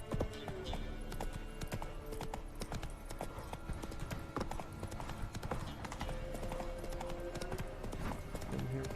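Horse hooves clip-clopping in a video game, a brisk, steady rhythm of close hoof strikes continuing throughout, with faint background game sound and no clear talk.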